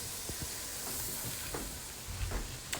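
Vegetable broth, beans and turmeric being added to rice cooking in a pot, giving a steady soft sizzle and faint stirring clatter throughout, with a few brief scrapes.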